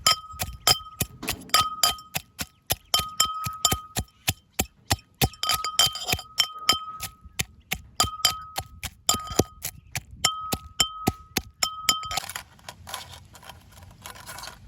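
Crab is pounded in a small stone mortar for Jaffna-style village crab soup, a long run of sharp, rhythmic clacking thuds, loud and close, with bright ringing knocks between strikes and no talk.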